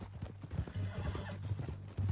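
Horse hooves clip-clop steadily in the video game Red Dead Redemption 2, a close, rhythmic trotting with a brief whinny mixed in and no talking.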